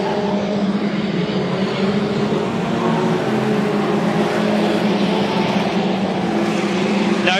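Junior sedan race cars roaring past at Bundaberg Motorplex, a loud sustained engine drone with one machine bouncing off the rev limiter, heard at a distance over a steady crowd-and-track wash.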